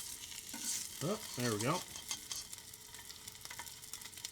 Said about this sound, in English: You're going to hear it start sizzling.